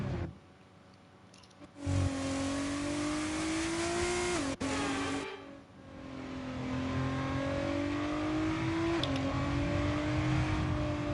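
A Formula 1 race car engine in the F1 22 video game screams at high revs, its pitch climbing through the gears with sharp shift drops, loud and continuous with no talk.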